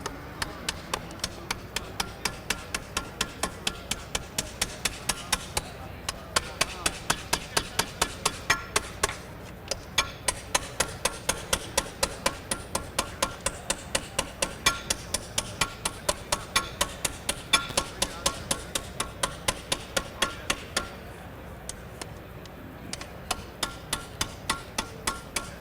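Sheet metal is hammered on an angle without a dolly, a long steady run of rapid metallic blows at close range with brief pauses between bursts.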